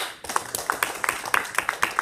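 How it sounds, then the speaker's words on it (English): A small audience at a Toastmasters meeting claps for a few seconds, the sharp individual claps distinct and uneven rather than a dense roar. "can we give Toastmaster Cristel a round of applause?"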